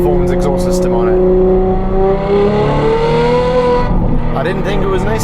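A Ferrari 812 engine with a race performance exhaust system revs hard and loud, its pitch climbing and holding in a roaring exhaust note before dropping back.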